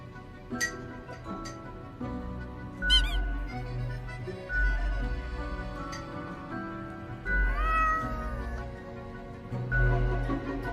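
A cat meows several times in a game setting, with clinking coin-like chimes and steady background music throughout.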